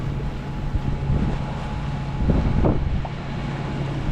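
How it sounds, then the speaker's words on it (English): A boat motors under engine through virtually calm water on the way to an anchorage off South Manitou Island, a steady low engine drone with faint wind rumble and no talk. "motoring in a virtual calm"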